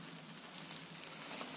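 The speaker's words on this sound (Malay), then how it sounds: "Udahlah hujan." Steady rain pattering on a mountain trail on the way up Kinabalu's Tawang peak, a dense, even hiss of drops that stays close and constant with no voices.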